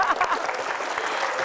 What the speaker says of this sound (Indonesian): Kasih tepuk tangan Mas Ari.